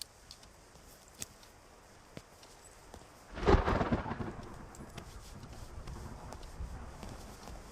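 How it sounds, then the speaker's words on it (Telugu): Thunder rumbles once, loud and rolling, halfway through soft steady rainfall, with a few faint sharp ticks before it and a lingering wash of rain after. "వర్షం ఇప్పుడప్పుడే తగ్గేటట్లేదు."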